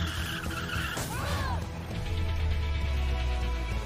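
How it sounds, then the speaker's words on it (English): A cartoon car skids to a stop, squealing tires sweeping through a bending screech over rumbling engine noise and background clatter, ending in a low sustained drone, all loud and close. "using the brakes"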